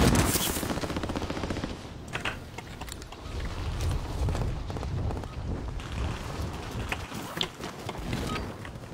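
Heavy, continuous video game gunfire, dense rapid bursts and booming shots crowding the whole clip, loud and close with no speech over it.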